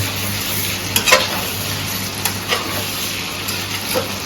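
Stirring potato and pointed gourd frying in a pan, a steady close sizzle with a few soft spatula scrapes and knocks scattered through, no talk.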